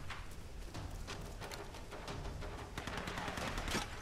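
Rapid gunfire cracks out in the Tomb Raider video game, a dense run of shots over a noisy, steady background.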